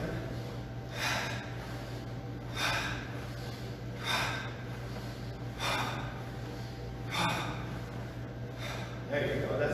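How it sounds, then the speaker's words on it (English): Deep rhythmic breaths, inhaling and exhaling in slow cycles about every one and a half seconds, taken during martial arts stretching at home, with a steady low hum underneath. "Inhale up, exhale down."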